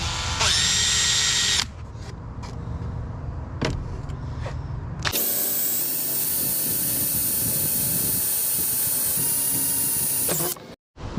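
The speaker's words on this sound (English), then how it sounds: "I'm going to drill a bunch of holes in it" A power drill bores a series of holes in a hardwood flare box for a Ford Transit AWD van build, with loud whirring bursts between short pauses, then a long sustained high-pitched run before stopping.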